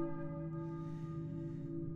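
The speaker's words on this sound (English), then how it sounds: "I hear a church bell, maybe?" Church bell ringing in the Silent Hill video game, a sustained, steady metallic toll with long humming overtones, fairly loud and alone with no talk over it.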